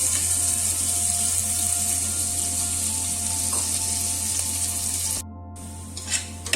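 Onions frying in hot spluttering oil for a mutton kheema ball curry, giving a steady, loud, continuous sizzle with a constant low hum underneath, cutting out briefly near the end before faint sizzling resumes.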